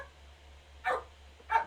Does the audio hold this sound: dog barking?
yes